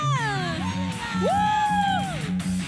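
A youth church congregation at a Sunday service shouts hallelujah together in a loud, crowded burst of cheering and whooping voices, with a leader's voice over them.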